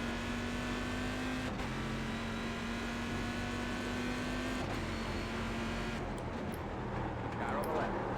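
A GT1 race car engine at Summit Point in a racing video game hums at a steady high pitch, then shifts and revs near the end, a continuous drone heard along with a voice.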